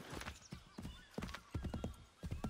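Horse hooves clip-clop through the video game Assassin's Creed 3 in a steady, fairly close trotting rhythm, with a brief whinny-like tone and game sounds around them.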